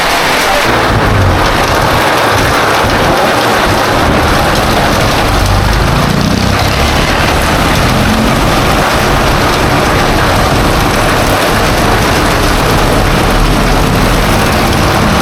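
Heavy rain pours down in a steady, loud, unbroken wash of noise that fills the whole stretch, with no voices over it.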